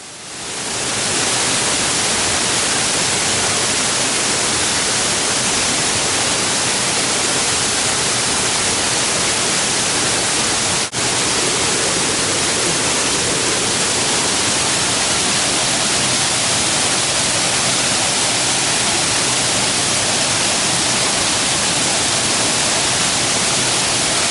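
Loud, steady roar of Elephant Falls near Da Lat, heard from the top of the falls, a dense unbroken wash of falling water that fills the whole stretch with no voices.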